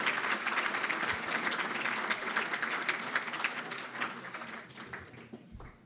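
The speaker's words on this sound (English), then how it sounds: "Give them a round of applause for bringing Colonel North here today as well" A crowd at a special event featuring Lt. Col. Oliver North applauds, a full, steady round of clapping that thins out and tapers off toward the end.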